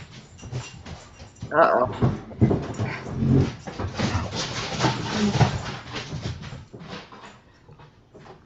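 A puppy whimpers and yips excitedly close by, in restless bursts of high whines that come and go, with a person talking over it.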